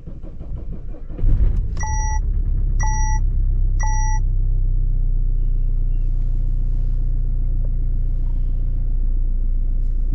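A Peugeot Citroën 1.6 HDi diesel car engine, noted for an injector problem, cranks briefly and catches, then settles into a steady, loud, close idle rumble while three short electronic warning beeps sound just after it starts.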